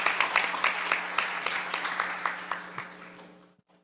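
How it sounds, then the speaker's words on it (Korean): An audience claps at a forum round table, with individual claps distinct and fairly close, tapering off and ending near the close of the clip over a steady low hum. "이런 점에서 우리 서병수 의원님 마지막까지 자리 지키시는데 박수 한번 치면서 말씀 한번 듣겠습니다."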